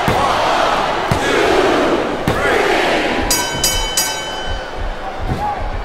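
A wrestling arena crowd in WWE Smackdown vs RAW 2007 roars and chants loudly and continuously during a Lita vs Mickie James Ironman match, punctuated by a few sharp slams and ringing tones.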